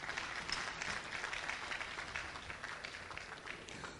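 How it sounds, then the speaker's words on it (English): An audience gives a panelist a round of applause at a forum, a faint, even wash of many hands clapping that is steady throughout. "Please, a warm round of applause for him"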